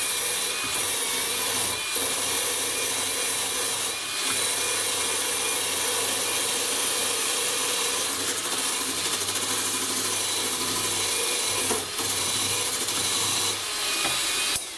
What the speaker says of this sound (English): protect your hand with the wire brush. Here we go again. Let's give it a little scrape.